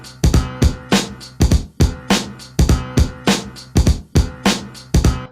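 A looped piano sample from a hip-hop beat plays with a sampled snare and kick, giving a steady, punchy hip-hop groove of repeating hits, loud and alone with no talking.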